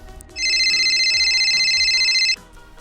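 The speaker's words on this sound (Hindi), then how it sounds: "उसने संजना के पापा को फोन किया" A telephone rings in a single sustained electronic trill lasting about two seconds, loud and close over faint background music.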